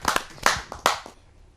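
A short burst of hand clapping greets a poet at a Hindi kavi sammelan: a few distinct, close, crisp claps in quick succession that die away within a second and a half.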